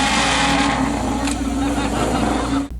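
A car engine revs and drones steadily as the car pulls away, a loud harmonic hum sustained throughout before cutting off abruptly near the end.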